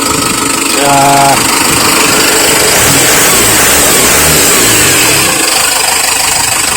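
A Cummins 4BT diesel engine, swapped into a Nissan D22 Navara, revs and runs roughly with a rattling, tractor-like clatter, loud and close, holding a steady throb throughout.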